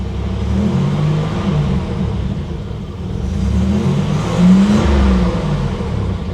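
A 1987 Buick Grand National engine runs close by, surging as it revs and then settling back toward a steady idle, with no voices over it.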